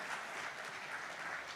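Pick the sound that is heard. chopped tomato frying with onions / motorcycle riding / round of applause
round of applause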